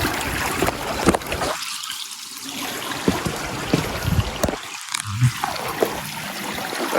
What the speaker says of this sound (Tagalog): agas na tubig diri